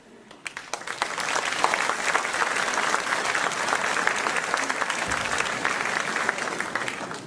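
Audience applause at a mayor's New Year address in a town hall, a dense, steady clapping that swells in after a moment and holds for several seconds, filling the room.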